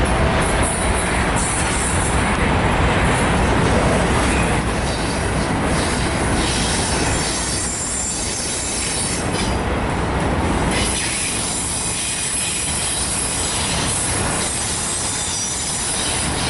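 A Union Pacific ES44AC locomotive leads a manifest freight train through downtown El Paso, Texas, with a loud, steady roll of rail cars, wheels squealing and clattering over the track close by, no talk.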